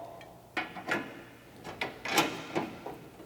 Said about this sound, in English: I'm going to put the carriage bolt through the hole,